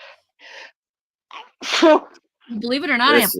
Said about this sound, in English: She's got the sneezies.